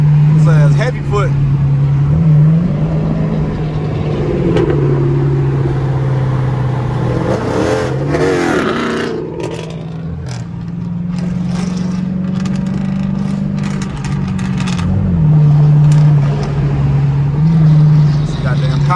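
Straight-piped Dodge Charger R/T with a cammed Chrysler 300C making highway pulls, a loud steady engine drone rising and falling as it accelerates, with people talking over it throughout.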